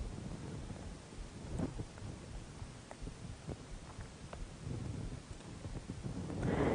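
Heavy rain falls steadily during a monsoon storm around Bhopal, with scattered thunder rumbles and cracks and a louder swell near the end.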